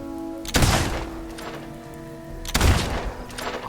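Two gunshots at a shooting contest in Fable II, about two seconds apart, each a sharp loud crack with a short decaying tail over a steady low game hum.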